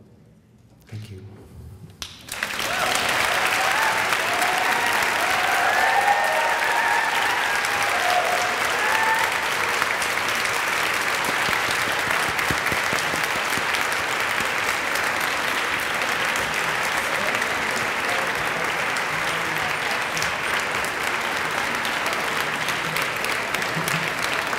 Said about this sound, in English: Let's just give one big round of applause for Dr. Jeremy Tissier one more time.